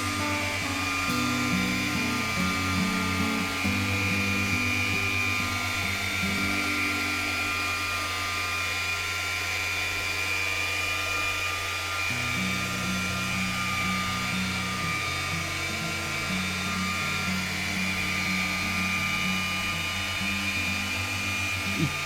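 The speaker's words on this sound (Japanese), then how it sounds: "一定の速度とポリッシャーの重さだけで力を加えず無理をせず自然に作業をしています" A car polisher working the paint of a Volkswagen Golf R, a steady whining motor hum with a high tone and slight pitch shifts as the pad moves at constant speed, close and continuous, with no talk.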